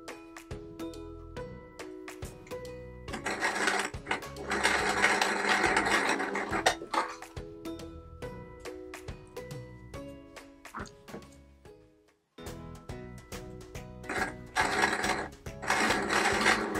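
Sewing machine stitching patchwork quilt triangles, bursts of rapid mechanical chatter lasting a few seconds each, separated by brief pauses and clicks, close and fairly loud.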